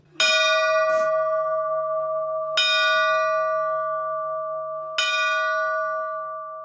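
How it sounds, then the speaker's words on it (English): A school bell, rung early in the morning inside the building, gives three loud, ringing strikes a few seconds apart, each tone sustaining and slowly decaying into the next. "goes to a bell that's inside the school."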